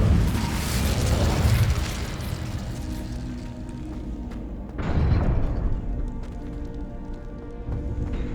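The Incendio fire spell cast in Hogwarts Legacy: a broad, roaring burst of flame that fades, then a second rushing blast a few seconds later, with no talking.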